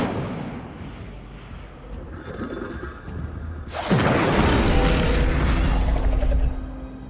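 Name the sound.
Incendio fire spell blast in video game Hogwarts Legacy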